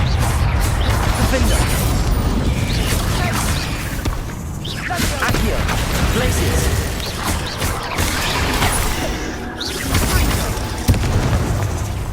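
Bombarda spell blasts in the Hogwarts Legacy video game, a dense run of booming explosions and whooshes that fills the whole stretch loudly, with a player shouting over the game effects.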